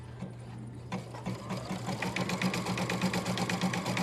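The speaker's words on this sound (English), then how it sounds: "the next step is going to be to sew the outline stitch and tack down my felt to create the shape of the stocking" A Baby Lock Altair 2 embroidery machine sews an outline stitch tacking felt into a stocking shape, starting from a quiet hum and moving into a rapid, regular stitching rhythm that stays close and steady.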